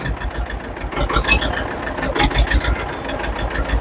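A farm tractor engine rumbles close by as the tractor turns on a farm, with an even, throbbing chug and a few louder surges, no voices heard.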